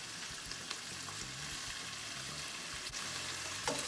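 Beef tenderloin steaks sizzle loudly and continuously in a hot pan just after being flipped, a dense, even frying hiss with a few faint clinks.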